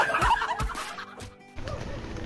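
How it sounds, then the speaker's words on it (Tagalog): Chickens at a birthday gathering give several clucks and short squawks, close and fairly loud, with a brief quiet gap between calls. "Malaki yung manok dyan."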